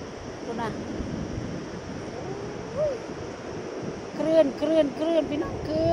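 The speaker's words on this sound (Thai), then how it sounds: "คลื่นพี่น้องคลื่น" Sea waves wash steadily onto a beach with wind noise, while voices talk over the surf and birds chirp near the end.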